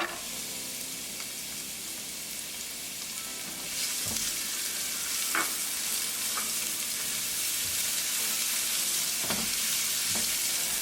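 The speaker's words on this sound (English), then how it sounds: "We're going to saute onion for like 2 minutes." Onion sautés in olive oil with cumin seed (jeera), a dense, steady sizzle that swells slightly partway through, with occasional soft scrapes and taps from stirring, close up and free of speech.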